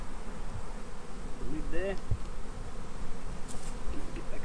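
Honeybees knocked loose from a hive frame with a sharp shake into a container during a sugar shake, giving a steady close buzzing drone with a brief thump and a short word spoken partway through.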